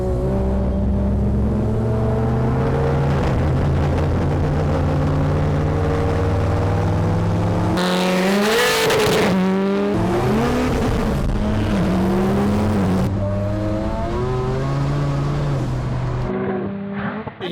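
A race car accelerating hard on a track, its engine climbing through the revs with loud rising whines and abrupt drops at each gear change, heard up close and continuous.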